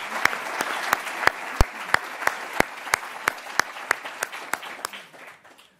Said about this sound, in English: I'd like everybody to give our panel a nice round of applause